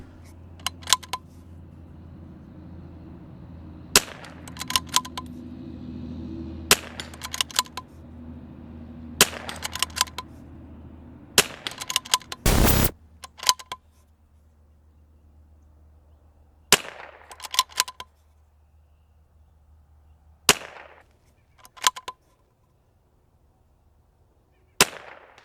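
A rifle in an Ultradyne UD7 chassis fires about a dozen sharp, loud single shots spaced a few seconds apart over a faint low hum.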